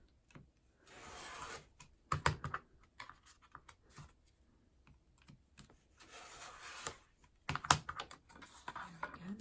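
A craft knife slices through paper along a hand-held plastic guide while making a junk journal, giving brief scratchy strokes at close range, with quieter pauses and handling noises in between.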